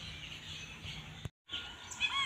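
Young chicks at a poultry brooding farm chirp continuously and faintly as a dense, high twittering background. A brief dropout breaks the sound near the middle, and a few sharper peeps stand out toward the end.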